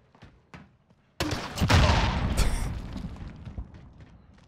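Grenade launcher rounds fired in Warzone burst in a loud cluster of booming explosions with rolling debris and echo, after a couple of faint pops, then trail off into a decaying rumble.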